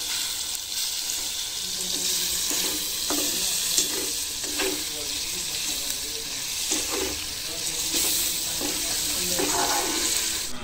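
Masala frying in a pan and being stirred, a loud continuous sizzle with repeated scraping spoon strokes through the mixture, nearby and alone without talk.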